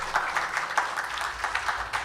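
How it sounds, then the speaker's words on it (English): Applause from the congregation at a night gathering of a Devi Yagya puja, a steady wash of many clapping hands at moderate loudness, heard alone without talk. "Round of applause for Michael."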